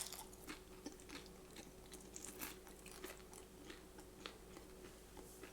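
Crunchy homemade keto cheese crackers in the style of Cheez-Its being bitten and chewed close up, a faint series of crisp crunches and clicks in an irregular rhythm, with no talk.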